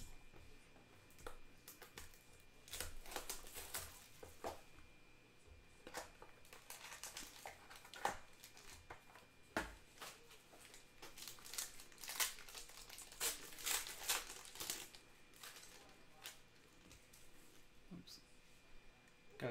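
Panini Obsidian basketball card boxes and packs being opened: continuous crinkling foil wrappers, tearing and rustling handled close up, with scattered sharper crackles and occasional soft bumps throughout.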